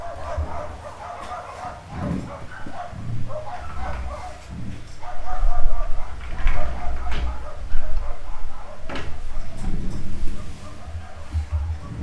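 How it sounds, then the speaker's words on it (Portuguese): Several dogs barking outside a window, repeated loud yips and bow-wows in irregular bursts, some overlapping, with a voice speaking faintly in the room. "tá muito barulho de cachorro aqui"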